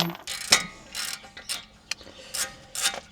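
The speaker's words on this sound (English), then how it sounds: "Caliper carrier bolts coming off. They are 21mm." A ratchet loosening the 21mm caliper carrier bolts on a Land Rover Discovery 2 during wheel hub replacement, close bursts of clicking ratchet strokes and metallic rattles in an uneven rhythm, with short pauses between, no voices.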